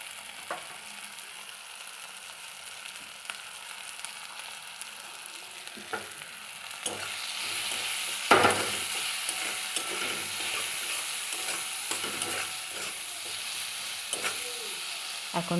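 Spices for a duck egg curry fry and are stirred in a pan, giving a soft, continuous sizzle with occasional scraping stir strokes. It grows louder and busier partway through.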